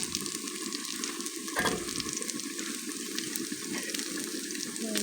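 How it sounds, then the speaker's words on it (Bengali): Green chillies frying in hot oil, with a steady, close sizzle that holds throughout and one brief louder crackle midway. No one is talking. "কাঁচা লঙ্কাগুলো এই তেলের গরমেই হয়ে যাবে"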